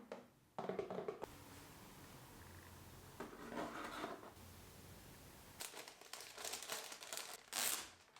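A half wig package is being unboxed up close, with bursts of plastic packaging crinkling and rustling in a few separate handling passes and quiet gaps between them.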